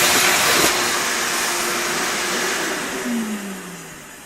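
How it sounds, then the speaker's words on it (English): A vacuum cleaner sucking dust out of a Martin D-35 acoustic guitar during bridge repair, a loud, steady broadband whoosh close by that dips and shifts in pitch as the nozzle moves. "vacuum it out."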